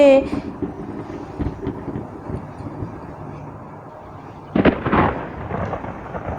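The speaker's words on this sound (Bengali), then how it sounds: "বাপরে বাপ, হাওয়ার কি শোঁ শোঁ আওয়াজ হচ্ছে" Strong storm wind during Cyclone Remal roars in a heavy, gusting rumble that swells into a sudden loud burst near the end before settling back to a steady whoosh.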